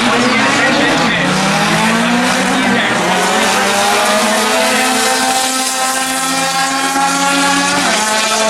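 A 1992 Honda Prelude with a 2.2-liter engine drag racing down a quarter-mile strip, its engine note rising in steady harmonic sweeps as it accelerates through the gears, loud and continuous, with a public-address voice talking over it.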